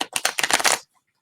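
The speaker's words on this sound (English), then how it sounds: "Let me shuffle the deck." A deck of cards is shuffled close up in a quick burst of rapid riffling clicks lasting under a second, then silence.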